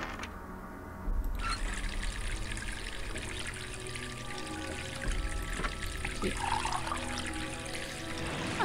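Water runs from a repaired tap in a point-and-click hidden-object adventure game, a steady trickling and pouring stream that starts abruptly and continues evenly, fairly close, with no talk over it.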